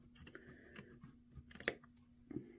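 Scissors snip through headband material in a couple of quick, close cuts, with a sharp snap standing out partway through against a quiet background.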